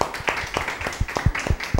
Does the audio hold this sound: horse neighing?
no